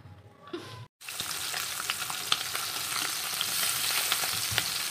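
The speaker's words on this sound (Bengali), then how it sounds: "সীতাপাটি মাছটা ভাজা হচ্ছে" Sitapati fish frying in a pan gives a loud, continuous sizzle with crackling pops, starting abruptly after a brief quiet moment and holding steady to the end.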